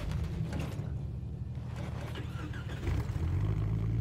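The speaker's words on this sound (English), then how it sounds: "Oh, my engine started." A small engine catches and starts running, its steady low rumble growing louder toward the end amid mechanical clatter, with no talk.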